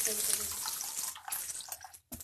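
Rice is rinsed in water in a home kitchen for sweet rice kheer: a close, splashy rush of sloshing and running water that breaks off abruptly, then briefly resumes.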